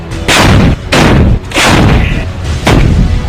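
Howitzer artillery guns fire four heavy, booming shots in quick succession, each a loud, close blast with a short rumbling decay, the shots spaced unevenly less than a second apart with no talking.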